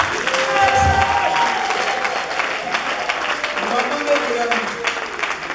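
A church congregation claps in a sustained burst of applause that fades gradually, with voices and a speaking voice mixed in over it.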